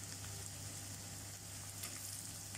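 Garlic and ginger frying in a pan for gobi manchurian: a steady, even sizzle of hot oil with faint crackles throughout, continuous and close, with a low background hum and no talk.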